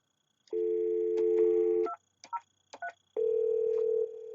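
An Avaya 4412 desk phone dials extension 203. A dial tone plays first, then three short keypad tones, followed by a second steady tone that drops slightly in level near the end.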